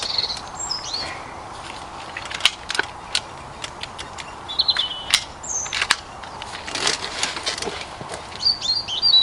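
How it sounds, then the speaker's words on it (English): Air rifle shooting pellets at a target 30 metres away outdoors, giving sharp, fairly quiet cracks scattered irregularly through the clip among birdsong and steady ambient hiss, with no talking. "I'll put a group of 5 pellets in the centre target."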